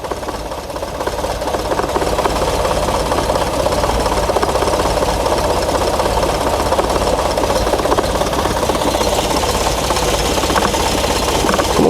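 Classic Volkswagen Scirocco engine holding a very slow, chugging idle, a dense, steady mechanical clatter and rumble running unbroken throughout, close and fairly loud with no talk.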